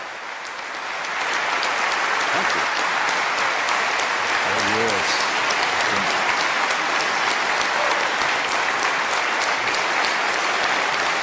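Audience applause at the close of an atheist-versus-Christian debate between two brothers, swelling within the first second into a loud, dense, sustained roar of clapping, with a voice briefly heard beneath it.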